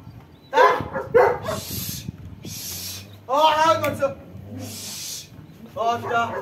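A dog barks in short bursts, a few sharp yaps early and again later, close by, while someone talks to it.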